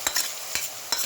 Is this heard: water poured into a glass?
no